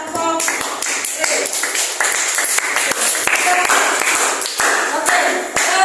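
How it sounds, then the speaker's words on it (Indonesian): A school class applauds a student group after their presentation on ASEAN cooperation, loud, close, uneven clapping from many hands with some overlapping talk and voices in the room. "kita berikan tepuk tangan kelompok A"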